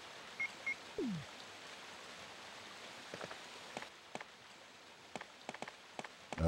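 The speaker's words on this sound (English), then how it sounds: "The water is running on the opposite side." Running water in the PlayStation Resident Evil game gives a steady, faint rushing hiss, broken by scattered light ticks and a few short tonal game blips.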